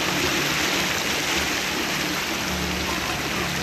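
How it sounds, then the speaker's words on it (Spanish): A strong current of floodwater surges down a street during a nighttime rainstorm, making a dense, loud, unbroken wash of rushing water and falling rain with no pauses and no voices. "Ahí está, miren, ahí está el caudal fuerte."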